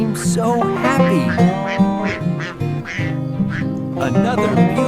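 Ducks quack repeatedly and loudly on a farm, the nasal calls overlapping one another in a busy chorus, likely a cartoon rendering, with other sounds woven underneath.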